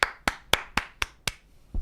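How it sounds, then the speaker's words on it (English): Six sharp, evenly spaced hand claps ring out close and crisp, followed by a short pause and a softer sound. "Everybody, clap your hands."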